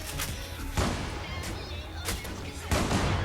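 Sniper rifle shots ring out in the online shooter game Zula, several heavy booming reports spaced about half a second apart over a constant dense background of game noise.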